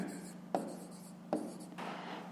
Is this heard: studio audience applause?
no